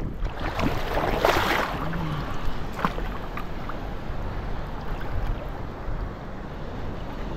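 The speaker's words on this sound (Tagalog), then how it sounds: "Laki ng alon dito." Large waves wash and slap against a small fishing boat at sea, a steady rushing surge with wind noise, loud and close, with no voices.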